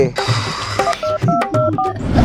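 Phone keypad dialing tones sound in a quick series of short steady beeps, several presses spaced irregularly, with a low rumble and bits of voice beneath them.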